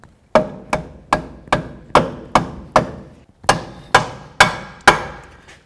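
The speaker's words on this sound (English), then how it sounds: "go right along the lip with a pry bar and your hammer and just give it a couple loving bonks until it slides in" Eleven sharp metallic blows from a hammer on a pry bar, driving a lower control arm bushing into place on a 2003-08 Toyota Matrix, struck at a steady rhythm about half a second apart, loud and close with brief ringing decays.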